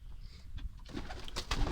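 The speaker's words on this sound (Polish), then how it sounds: "To, to są dwa gołębie, to sparka gołębi, które dostałem." A pair of pigeons coo close by inside a loft, soft low calls repeating across the short stretch with some rustling behind them.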